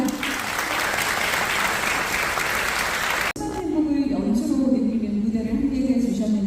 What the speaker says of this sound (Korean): 여러분의 뜨거운 박수로 청해보겠습니다